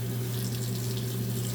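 Kitchen faucet running cold water during dishwashing with a sponge; steady, close hiss of flowing water with a low hum, unbroken and without talk.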